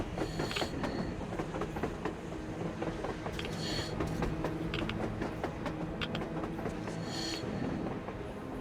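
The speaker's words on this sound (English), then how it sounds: "A train! A damn train on the surface!" A train in the video game Metro Exodus rumbles along steadily, with rattling clatter and metallic clicks over a constant low roar.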